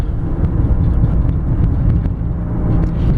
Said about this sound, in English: You get a moderate amount of road noise.